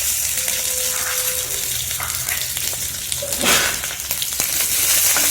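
Onion and capsicum for chilli mushroom are stirred in a hot pan, giving a dense, loud sizzle with a few scraping stirs and brief knocks throughout.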